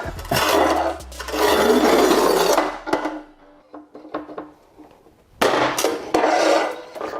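A Montolit Atlas tile cutter working a 60 by 60 cm, 9 mm Zeus Ceramica porcelain tile gives two loud, rough scraping bursts separated by a quieter stretch of small clicks and taps.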